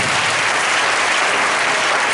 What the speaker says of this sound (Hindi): जोरदार एक बार ताली बजाओ